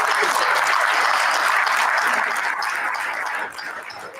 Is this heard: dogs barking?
no